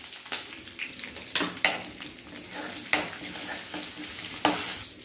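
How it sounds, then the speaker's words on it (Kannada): Mustard seeds, urad dal and curry leaves fry in hot oil with a loud, close sizzle, broken by sharp bursts and crackles as items hit the pan and a spoon stirs. "ಎಣ್ಣೆ ಕಾದಿದೆ, ಸ್ವಲ್ಪ ಸಾಸಿವೆ ಹಾಕ್ತಾಯಿದ್ದೀನಿ, ಸ್ವಲ್ಪ ಉದ್ದಿನಬೇಳೆ, ಆಮೇಲೆ ಒಂದು ಸ್ವಲ್ಪ ಕರಿಬೇವು"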